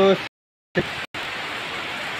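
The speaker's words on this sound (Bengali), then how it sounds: "আজকে বৃষ্টি হচ্ছে" Broadband rain-like hiss fills the latter half after a brief voice and short gaps, steady and fairly loud.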